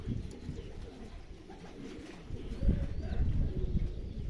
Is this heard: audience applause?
no